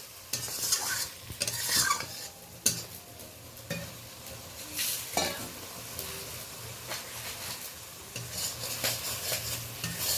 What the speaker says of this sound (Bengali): গুঁড়া মশলাটাকে ভালো করে একটা খুন্তির সাহায্যে নেড়ে নিচ্ছি